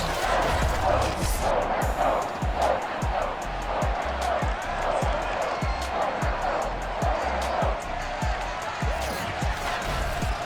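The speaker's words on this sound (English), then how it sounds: "the Patriots, introduced to this, as always, sold-out crowd as they get set to go head-to-head with the Dallas Cowboys" Sold-out stadium crowd cheering in a Madden NFL video game as the Patriots and Cowboys are introduced, a steady dense roar of voices with repeated sharp thuds pulsing throughout and a commentator speaking over it.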